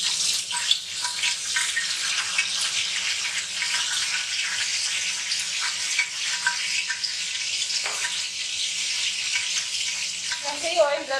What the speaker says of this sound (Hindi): जैसे ही ऑयल गर्म हो जाए हम हरी मिर्चें डालेंगे और उसकी खुशबू निकालेंगे